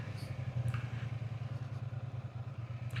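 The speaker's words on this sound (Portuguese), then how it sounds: "curtirem também o ronquinho desse motor" A Triumph Bonneville T100 motorcycle idles with a steady, low, pulsing thump, close and alone, with a few faint clicks on top.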